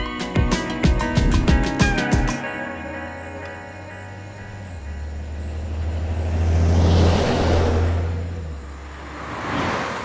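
Film scene with a vehicle driving as its engine rumbles steadily, starting under a few sharp musical or impact hits, then swelling and fading twice as it moves closer and away; no talking.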